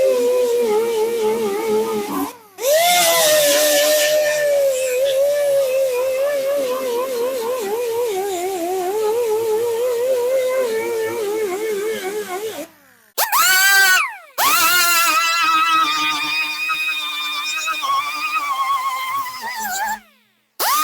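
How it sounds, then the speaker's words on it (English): A grinder works metal finish on the body of a 1970 Dodge Challenger in a shop, running steadily and loud with a wavering whine, briefly cutting out twice before spinning back up. "I'm going to go through and do a little metal finish work on this with just a grinder"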